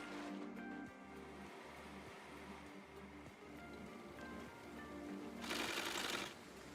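A small sewing machine runs in the city-building game Endzone: A World Apart, making a faint, steady, rhythmic low chugging over soft ambient game noise, with a brief burst of hiss near the end.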